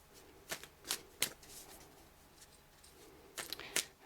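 Tarot cards are shuffled in quick riffling bursts, a few crisp flurries separated by short pauses, close and fairly quiet, with no talking.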